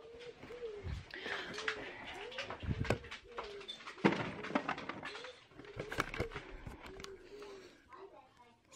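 Pigeons coo repeatedly in soft, rolling phrases close by, with scattered clicks and rustling around them.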